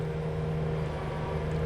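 Road building works on a steep hill give off a steady, distant mechanical drone, low and continuous like heavy machinery running without a break.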